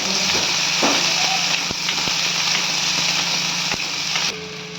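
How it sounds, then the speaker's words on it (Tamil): Onions sautéing in a pan for egg chukka, a steady loud sizzle and hiss with a few faint stirring clicks throughout. "வெங்காயம் கொஞ்சம் வதங்கட்டும்"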